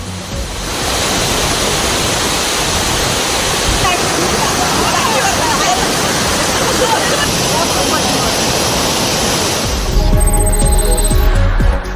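Kurangu waterfall near Valparai roars in sudden flood after rain, a loud, dense, unbroken rush of water that swells slightly toward the end.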